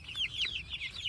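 A hen clucks in a quick run of soft, close chirping calls during a morning in a chicken tractor, with no talk over it.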